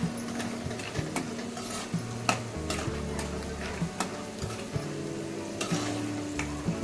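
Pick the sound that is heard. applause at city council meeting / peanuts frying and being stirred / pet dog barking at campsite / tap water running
peanuts frying and being stirred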